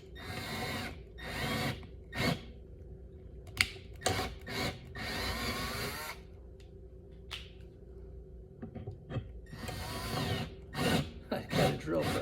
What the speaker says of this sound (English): I got a drill press actually.